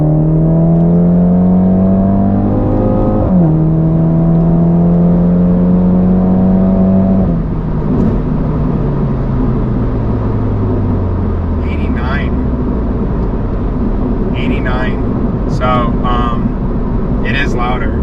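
Mini Cooper fitted with a sports cat exhaust accelerating hard, its loud engine note climbing through the revs, dropping briefly at a gear change, then climbing again before easing off, with faint voices and clicks near the end.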